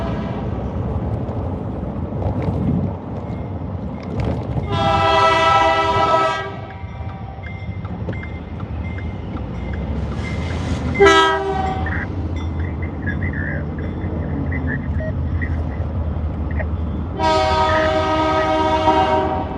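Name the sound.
manifest freight train passing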